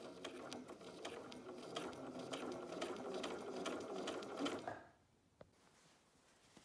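Sewing machine stitching the cuff of Libeccio bermuda shorts, a fast even mechanical chatter running for several seconds, then stopping abruptly into near silence with a single small click.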